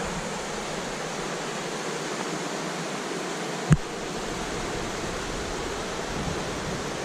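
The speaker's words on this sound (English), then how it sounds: "I can hear waterfalls again," Waterfalls or rapids on the Lester River give a steady broadband rush of water that fills the whole stretch evenly, with a single sharp knock midway and no speech.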